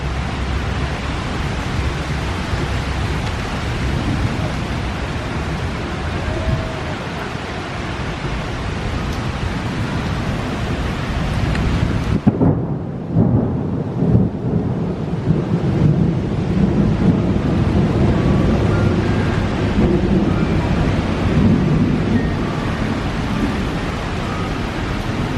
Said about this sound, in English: it is just pouring, and it's lightning and thundering like crazy